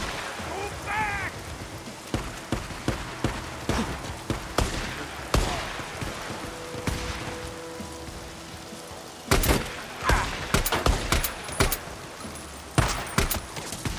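Gunfire in the post-apocalyptic video game Days Gone, with a scattered series of sharp shots and impacts, some clustered in bursts, over a steady ambient rumble, with a voice speaking briefly.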